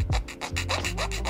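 A file rasps back and forth over the cut edges of Tamiya Mini 4WD Dash Emperor plastic body parts, a close, steady run of rough strokes.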